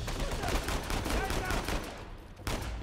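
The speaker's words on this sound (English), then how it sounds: "I'll shoot him with a shotgun." Shotgun blasts and rapid gunfire in the combat of the action video game Uncharted 4: A Thief's End, dense and loud for most of the stretch before a brief lull and one more burst, with a voice talking underneath.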